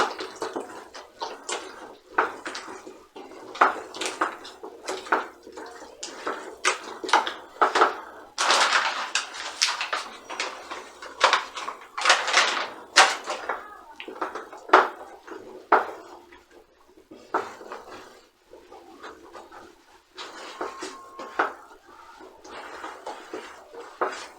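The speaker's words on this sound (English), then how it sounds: "So I'm going to mix this until everything is well mixed" Chapati ingredients, including butternut, being mixed in a bowl make a busy stream of close scraping, knocking and clattering sounds with irregular rhythm, with no talk.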